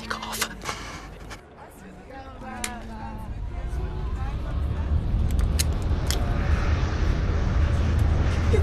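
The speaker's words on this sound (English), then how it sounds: "And we're about to take off." Passenger airliner starting its takeoff roll, engine roar building steadily from a lower rumble to a loud, sustained broadband drone inside the cabin, with voices talking over it early on.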